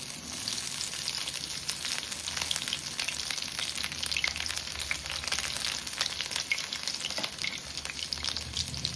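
Prawns fry in a hot pan with a steady, dense sizzle and crackle that holds at an even level throughout, with no voices.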